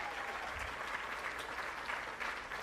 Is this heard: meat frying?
no